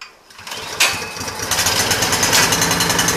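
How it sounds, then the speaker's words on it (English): A Briggs and Stratton 208cc engine on a 22-inch single-stage snow blower catches on the pull cord and roars up to a loud, steady, close running chug. "So I'm just going to pull this pull cord a couple of times, and hopefully the auger doesn't engage."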